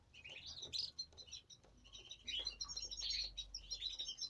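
Young chicks in a nest chirping in quick, bright bursts, fairly faint and close, with a low hum underneath and a pause in the middle before the cheeping resumes.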